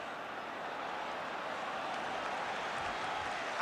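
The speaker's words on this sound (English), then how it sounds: "And the crowd applauding Ian Walsh." Crowd applause and broad roar at the 1981 Wales v Scotland football match, a steady wash of clapping and noise filling the stadium, building slightly toward the end.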